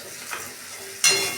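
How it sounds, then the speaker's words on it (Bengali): Chili, turmeric, cumin and coriander fry in a pan as they are stirred, a soft sizzle with a light scrape, then a sudden louder hiss near the end. "লঙ্কা, হলুদ, জিরে আর ধনে দিয়ে একটু নেড়ে নেব"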